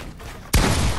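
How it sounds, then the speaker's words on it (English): Video game gunfire erupts suddenly halfway through, a loud, dense burst of shots that starts abruptly after a quieter stretch of background noise. "You don't have to keep shooting."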